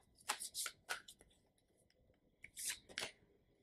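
Tarot cards shuffled by hand in a few quick riffling bursts with a pause between them, close and soft, with no voices.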